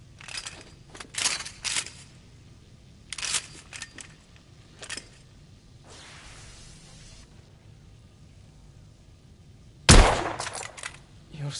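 Shots from a rifle with a telescopic sight in The Order: 1886, with a late loud crack standing out after several softer metallic clicks and bursts, and a brief voice heard near the start.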